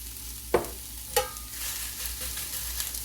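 Onions frying on a flat griddle give a steady sizzle, with two sharp spatula scrapes near the start and quieter scraping after, close and with no talking.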